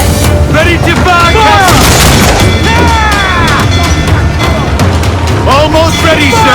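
Heavy ship cannons boom repeatedly in the naval combat of Assassin's Creed Black Flag, loud crashing blasts layered over constant sea and battle noise with shouted voices throughout.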